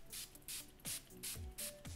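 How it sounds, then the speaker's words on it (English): A vitamin C beauty elixir is spritzed onto a face in a quiet room, about six short, soft hissing mist bursts at a steady rhythm, close up with no voices. "I'm just going to spray this all over my face to stop any bacteria from kind of making my acne any worse."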